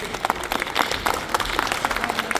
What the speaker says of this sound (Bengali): জোরে হাততালি দিয়ে ওনাকে